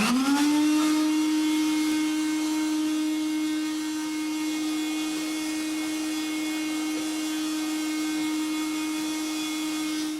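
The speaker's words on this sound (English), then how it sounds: "So Pat gets to work with our specially rigged vacuum cleaner" A specially rigged vacuum cleaner runs with a steady, loud motor whine that holds a constant pitch from start to finish, close by with no talk.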